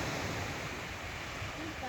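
Sea of Okhotsk surf off Sakhalin at night under a full moon, a steady broad wash of waves rolling in close and loud without pause.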